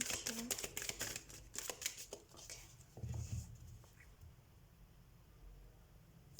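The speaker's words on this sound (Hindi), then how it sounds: "तो कुछ कार्ड्स निकाल लेते हैं हम वर्गोस।" Tarot cards being shuffled and drawn during a reading, a quick run of close, crisp riffling flutters and light slaps followed by quieter handling.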